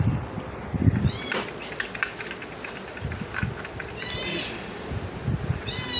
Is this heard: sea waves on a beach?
no